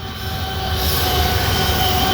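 A train rolls past heading east, a loud, steady rumble of railcars with wheel squeal and metallic ringing, close by and continuous, with no voices.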